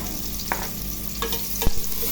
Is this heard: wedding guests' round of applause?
no